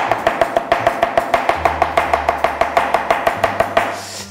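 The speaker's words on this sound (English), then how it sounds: "you could do really nice fast chops with this on your herbs" Quick, even chopping of herbs with a light Messermeister Chinese cleaver on a board, about five crisp strikes per second, close and loud, with no talk.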